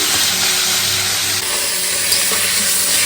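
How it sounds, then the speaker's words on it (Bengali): Fish head frying in a pan of hot oil gives a steady, loud broadband sizzle that holds without a break for about three seconds, with no talking over it. "মাথাটা এখন ভাজছি মাছের মাথাটা"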